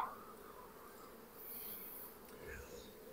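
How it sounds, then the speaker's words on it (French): Honeybees buzz steadily around a small Kenyan-style hive during swarm splitting, a continuous soft droning hum with occasional nearer wingbeats passing close, quiet and outdoors with no talk. "Je vais prendre juste les abeilles."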